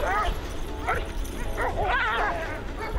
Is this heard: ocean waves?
no